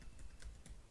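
Quick, soft keystrokes on a computer keyboard tap out a short burst, faint and close, with no voices.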